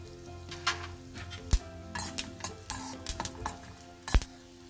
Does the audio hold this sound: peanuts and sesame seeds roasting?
yes